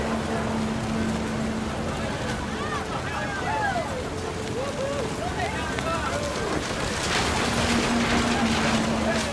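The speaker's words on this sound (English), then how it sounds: "The rain came down in buckets then" Heavy rain in the video game What Remains of Edith Finch, a constant dense hiss of downpour filling the scene, with faint tonal sounds and a low steady hum drifting through it.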